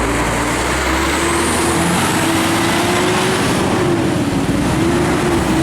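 A large Mercedes 1836 diesel bus engine of 360 horsepower drones steadily and loudly up close, its pitch rising slightly as it revs, with road noise around it.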